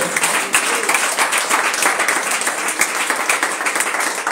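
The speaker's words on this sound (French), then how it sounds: "Est-ce que tu peux acclamer cette parole?" A church congregation breaks into loud, sustained applause, dense overlapping claps filling a room, with faint voices mixed in beneath.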